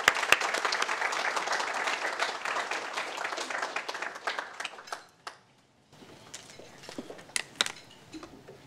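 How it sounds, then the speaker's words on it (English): An audience at a lecture on Turkish foreign policy gives a warm round of applause for an ambassador. The dense clapping carries strongly for about five seconds, then fades to a few scattered claps in a quieter room. "So really a warm applause, a thank you for the ambassador."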